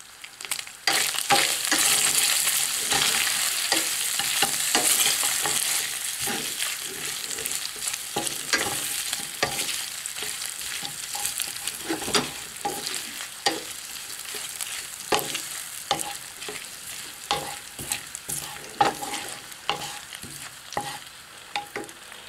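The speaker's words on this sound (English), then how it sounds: "So now we are going to cook bacon" Bacon frying in a pan until crispy for a linguine pesto pasta, a continuous loud sizzle and crackle with occasional sharp pops and stirring clatter, fading slightly toward the end.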